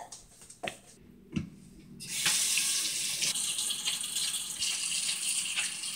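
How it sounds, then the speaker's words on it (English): A kitchen tap is turned on for handwashing before cooking, a few soft knocks followed by a steady, close rush of running water filling the sink. "wash your hands so you do not spread germs"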